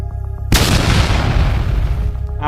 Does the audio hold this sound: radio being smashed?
no